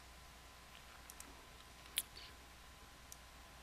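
A single computer mouse click on the Show button in EzStamp 2022 stamp-collecting software, a sharp isolated tick near the middle of an otherwise quiet stretch, with a couple of fainter clicks around it.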